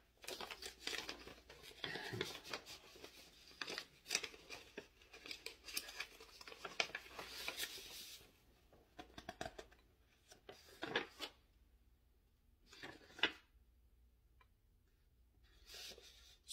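Paper rustles and crinkles as an envelope is opened and documents are handled during a visa lottery interview, with soft, intermittent handling noises that come and go and fade to quiet in between.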